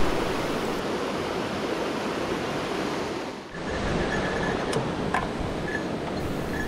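Chagama Falls, a waterfall in Akita, Japan, roars in a steady, loud rush of falling water heard close by, continuous broadband noise with a brief dip and a few faint high chirps.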